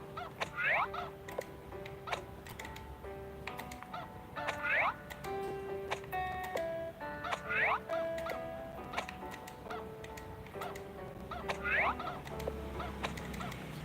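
Farm chickens in Harvest Moon: Hero of Leaf Valley give repeated short clucking calls in bursts every few seconds over a steady game-music and ambient background, with no talking.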